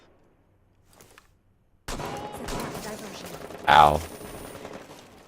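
Video game gunfire hits the player's character, a sudden loud burst that cuts in after near silence, followed by a sharp impact crack while a player yelps in pain.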